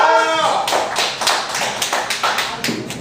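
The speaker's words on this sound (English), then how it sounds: "Clap for the poet, not the score" Audience clapping for a poet at a slam poetry event, a burst of claps starting after a brief voice at the start, steady and fairly close through the rest.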